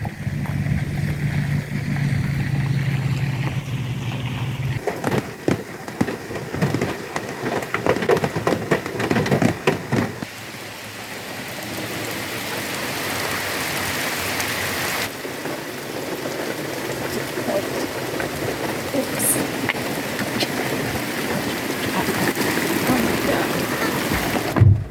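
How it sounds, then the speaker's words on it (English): Steady rain patters on a surface, an even hiss of drops lasting throughout, with brief talk and rustling partway through. "it is starting to rain"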